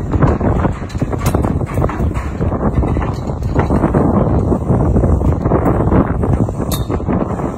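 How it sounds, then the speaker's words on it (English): Steady gusting wind high up on scaffolding buffets the microphone with a loud, rough roar that continues throughout without speech. "Windy up here. It is windy."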